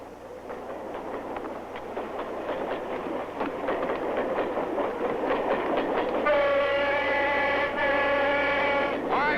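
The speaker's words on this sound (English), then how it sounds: "They must be on the train." Moving train rumbling steadily with rhythmic clatter, then a sustained horn blast sounds in the latter part, loud and close, with no speech.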